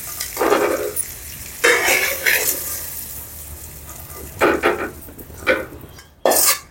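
Fried eggs being scooped and moved into another pot, with several separate scraping and clanking strokes of a utensil against cookware over a faint background sizzle.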